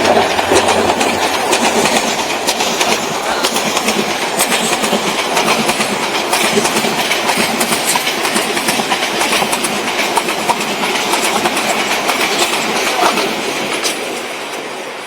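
A train runs past close by near the railway station at Sitakunda, Chattogram, with a loud, sustained clatter of wheels on the rails that holds steady and then eases slightly at the end.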